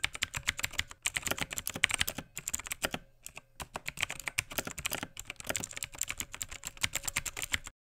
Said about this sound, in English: this is what the Razer Green ones from Chaos sound like